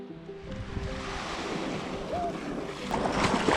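Ocean waves wash onto an island beach in a steady, broad rush, with wind buffeting the microphone and a little talking.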